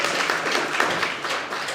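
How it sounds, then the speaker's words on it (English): Brief burst of clapping from a crowd at a city council meeting in Rochester, NY, a dense patter of many hands for under two seconds. "I actually would like our council to give everyone a round of applause for joining us tonight"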